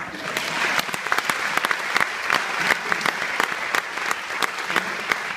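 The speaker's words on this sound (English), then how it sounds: "A round of applause for my son." Audience at a high school commencement ceremony gives a steady round of applause, dense overlapping claps at an even level throughout, with no voices rising above it.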